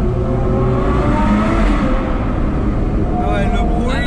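A powerful car engine roars steadily as it accelerates, loud and close, with excited voices talking over it throughout.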